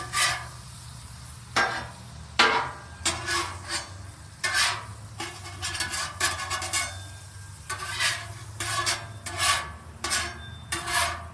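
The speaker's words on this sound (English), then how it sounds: "I'm going to put a little bit more butter down for these guys here" Butter sizzling on a Blackstone flat-top griddle while cooking breakfast, a steady close frying hiss broken by frequent scraping and rubbing strokes of a spatula, with no talk.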